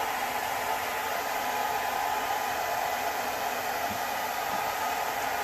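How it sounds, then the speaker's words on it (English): A hair dryer blows steadily on an RV counter covering to smooth out bubbles, giving a constant, even rushing hiss with no change in pitch or level throughout. "Remember to use your hair dryer to kind of help get rid of some of the small bubbles that may be in there."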